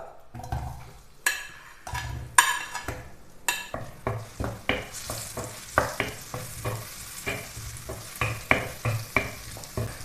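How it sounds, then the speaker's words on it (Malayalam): Sliced ripe plantain sautéed in ghee in a pan, with repeated sharp spatula scrapes and stirs at a steady rhythm over a soft sizzle, close and clear. "ഇനി ഇതിലേക്ക് കട്ട് ചെയ്ത് വെച്ചിരിക്കുന്ന ഏത്തപ്പഴം ഇട്ട് നന്നായിട്ട് വഴറ്റിയെടുക്കാം"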